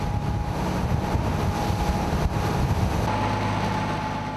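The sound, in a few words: strong wind blowing beside a ship at sea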